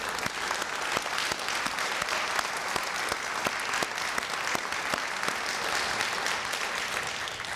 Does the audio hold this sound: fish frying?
no